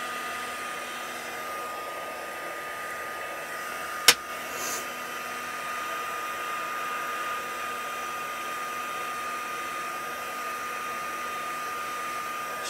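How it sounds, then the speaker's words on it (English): Heat tool blowing hot air on craft foam, a steady whooshing fan hiss that runs throughout at moderate level, broken by one sharp click near the middle. "Sorry for the noise, but I can't show you without having the heat gone on."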